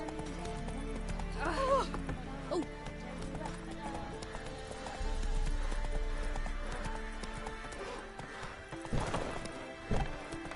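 Geralt's horse Roach in The Witcher 3, rhythmic clip-clop of hooves at a gallop, close and clear, with a brief whinny and a short exclamation from a voice over game music.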